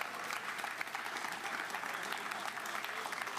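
Audience applause at a Gamescom gaming show, a dense, continuous wash of many hands clapping from a crowd, steady and moderately distant throughout.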